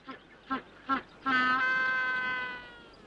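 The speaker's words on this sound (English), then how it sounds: "a family of upland geese" Upland geese calling in the Falklands: three short honks followed by one long, drawn-out nasal call, fairly faint against a quiet background.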